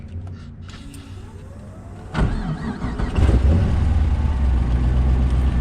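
A 7.0L LSX V8 engine in a Cadillac CTS, freshly fitted with new rocker arms, cranks and catches, then settles into a loud, steady low idle rumble close by.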